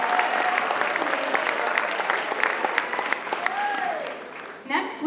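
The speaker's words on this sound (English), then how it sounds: "Give them a round of applause" Steady audience applause at a high school ceremony honouring the school administration, dense and sustained across the room, with a voice briefly speaking over it near the end.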